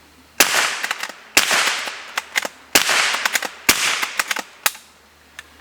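Four rapid rifle shots from a Remington Scoremaster 511, each a sharp, loud crack with a short echoing tail, spaced about a second apart and followed by fainter clicks of the action, with no talking.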